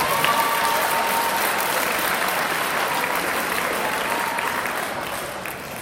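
A school crowd applauds cheerleaders at a November assembly, steady dense clapping filling the whole stretch without a break, loud and close, fading slightly toward the end.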